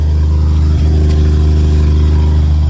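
A 1950 Chevrolet 4400 dump truck engine idles steadily and loudly up close, a continuous low rumble with a brief bump partway through and no talking.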